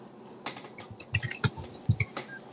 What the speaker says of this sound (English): Could we not type right now?